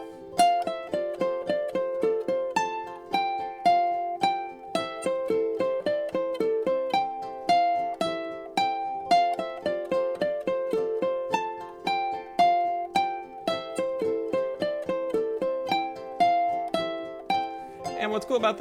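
Ukulele picks out a bright plucked melody over the jam track, steady rhythmic notes running continuously and prominently for the whole stretch with no talking.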